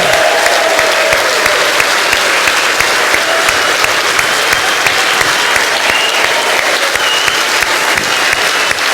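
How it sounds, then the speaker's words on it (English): Sustained, loud applause from a standing crowd at a Brexit Party political rally in Doncaster, Yorkshire, dense steady clapping filling the room for about nine seconds with no speech over it. "Give them a massive round of applause."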